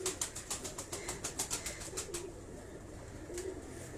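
A pigeon kept by Karachi breeders coos nearby in soft, rhythmic pulses, the repeated notes coming in a quick series and then fading, with faint room noise behind.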